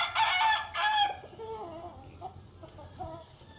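A chicken crows loudly and close in a Filipino rural setting, two strident bursts, followed by softer clucking and scattered bird calls.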